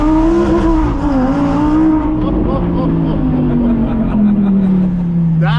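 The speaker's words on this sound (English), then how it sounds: "Is that a stock exhaust?" A stock exhaust on a 2024 Harley-Davidson Road Glide motorcycle revs loudly and steadily nearby, its engine pitch climbing and falling in a continuous drone, with people talking over it.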